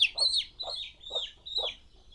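Chickens on a farm cluck in a short series of about five repeated calls, close and fairly clear, with no talking.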